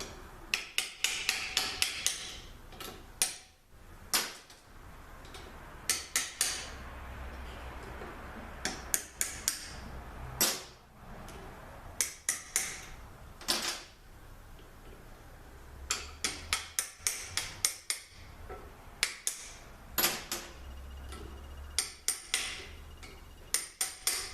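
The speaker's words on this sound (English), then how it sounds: "I got my puller here. I'm going to pull these tubes out one at a time." Repeated sharp metallic taps and clicks from a puller drawing tubes out of a Toyota A540E automatic transmission, coming in quick bursts of several strikes with short pauses between, close and fairly crisp.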